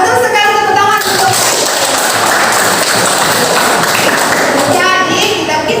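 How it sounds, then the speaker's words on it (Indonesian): Students in a classroom clap together after a correct answer, a dense burst of applause filling most of the clip, with children's voices chattering at the start and end. "tepuk tangan untuk"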